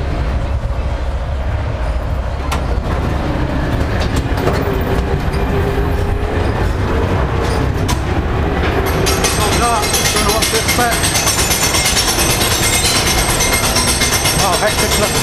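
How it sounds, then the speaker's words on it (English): A fairground ghost train ride rolls along on rails with rumbling wheels and clattering, while voices talk and music plays over it; the noise grows brighter and busier toward the end. "Next ride, we've got to go on the ghost train."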